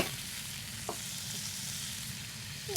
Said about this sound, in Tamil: நம்ம கொஞ்சம் கூட தண்ணியே சேர்க்காம அதை ஸ்லோவாக லாங் டைம் குக் பண்ண போகிறோம்